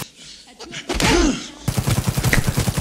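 Smart weapon fire in the video game Cyberpunk 2077 gives a loud rapid burst of close gunshots, a dense rattle of repeated reports after a brief swooping electronic whoosh.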